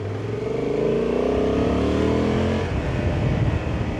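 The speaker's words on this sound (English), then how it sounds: "the sound of the 270-degree crankshaft is lovely" A Honda Transalp 750 motorcycle engine with a 270-degree crankshaft revs up with a rising, throaty growl, then drops back to a lumpy, uneven idle burble; loud and close, no talking.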